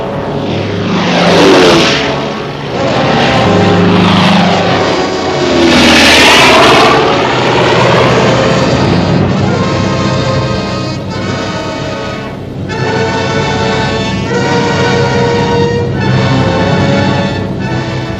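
Military transport aircraft at the Port Moresby airstrip during World War II, loud droning engine noise that rises and falls steadily, loaded with paratroopers, in old newsreel sound, with no voices.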